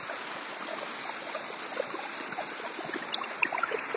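Hebbe Falls pouring heavily, a steady broadband rush of falling water that holds constant throughout, with small splashes and droplets flickering on top of the dense roar.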